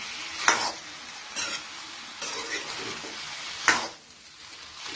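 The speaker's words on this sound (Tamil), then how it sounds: "எல்லாத்தையும் நல்லா கலந்து விடுங்க" Pineapple fried rice being tossed and mixed in a hot pan, a soft sizzle beneath occasional scraping strokes of a spatula, two sharper clanks standing out, heard nearby and fairly quiet.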